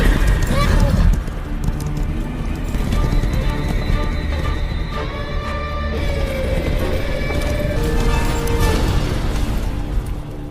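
Horses gallop in with riders, hooves drumming steadily under a busy, music-laden movie soundtrack, with a whinny and voices mixed in.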